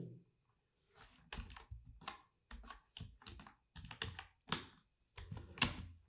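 Bursts of typing on a computer keyboard, quick clustered key clicks separated by short pauses, close and fairly quiet with no talking.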